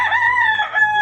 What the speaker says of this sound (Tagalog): Pero nagtitilaok na yung mga manok ni Uncle.